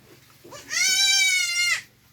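A young goat kid, two days old, gives one loud, wavering bleat lasting about a second, close by on a goat farm, with quiet before and after.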